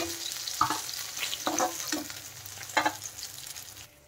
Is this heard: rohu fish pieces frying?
yes